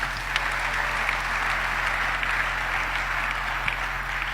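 A church congregation applauds in acclamation of the word of the Lord, a steady dense wash of clapping from many hands, moderately loud and sustained throughout.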